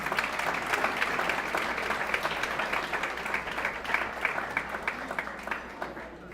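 An awards-night audience applauds a woman being honored, a dense, steady patter of many hands clapping that fades slightly toward the end, with some voices mixed in.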